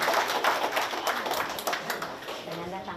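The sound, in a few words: audience applause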